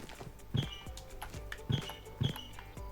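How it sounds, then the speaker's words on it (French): Soft sneaker footsteps in a video game, tapping at an even pace, a few distinct thuds with light squeaky scuffs between, quiet game ambience behind. "on entend mes baskets"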